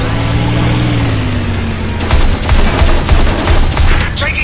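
Rapid machine-gun fire rattles loudly in a propeller-versus-jet air combat video game, continuous bursts over a droning aircraft engine.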